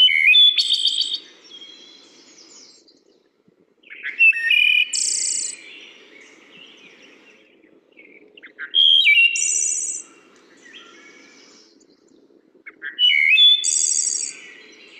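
Recorded songbird song replayed in a birdsong lesson: four clear bursts of high chirps and whistled notes, evenly spaced a few seconds apart, with a soft insect-like buzz running underneath throughout.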